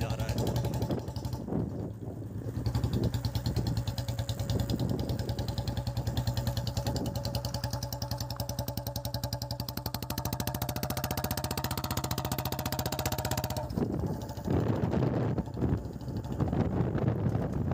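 Motorcycle riding along a rural road past farm fields in India, a steady engine drone with wind buffeting the microphone throughout, and a brief dip near the end.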